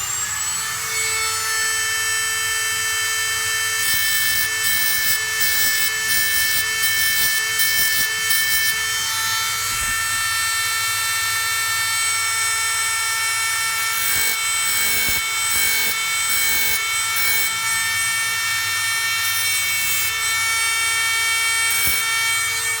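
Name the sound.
Dremel grinding a spinning Scalextric motor shaft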